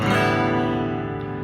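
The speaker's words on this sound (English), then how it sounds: "on the guitar, you have 6 strings, and open they sound like that." Six open guitar strings strummed together ring as one full, sustained chord that decays slowly, heard alone without talk.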